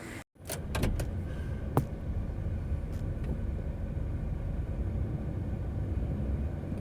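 Truck pulling a 1963 Cub Cadet garden tractor off a trailer by chain, a steady low engine rumble with a few sharp clanks early on, continuous and moderately close.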